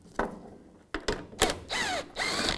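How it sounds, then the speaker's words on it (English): A 13mm socket ratchet works a bolt loose on a 2007-2013 Chevy Silverado 1500 tailgate cable, giving several short close clicking bursts separated by brief pauses, quiet overall with no talking. "Taking a 13mm socket, you can take this bolt out."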